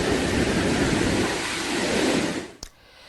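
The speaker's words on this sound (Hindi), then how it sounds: "सुंधा माता में जोरदार बारिश।" Heavy rain pours at Sundha Mata, a dense, steady roar with no voices that cuts off abruptly near the end, leaving only a faint quiet hiss.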